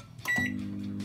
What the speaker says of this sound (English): Now there's my popcorn straight out of the microwave.